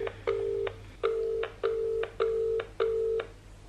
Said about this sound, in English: Mum, pick up the phone.